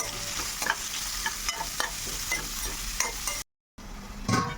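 Onions, green chillies, cumin seeds and curry leaves fry in a pan for an egg garlic-chilli dish, giving a dense, close sizzle with repeated scraping stir strokes. A brief dropout to silence comes near the end, then the frying returns.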